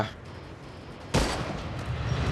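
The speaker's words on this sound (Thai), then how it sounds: "ยิงตัวนี้ไปก่อน" Sudden burst of gunfire in the zombie shooter game Unkilled, fighting fast-running exploding rabbit zombies, erupting after a quieter stretch and continuing as dense, sustained rapid shots.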